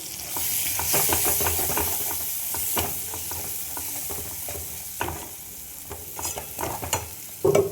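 Boiled chickpeas and potatoes with spices, including Kashmiri red chilli powder, frying and being stirred in a pan: a steady close sizzle with repeated scraping stir strokes, and a sharper clatter near the end.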